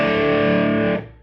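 A 1996 Gibson ES-175 electric guitar with P-90 pickups rings out a loud distorted chord, sustained and thick for about a second before cutting off and fading.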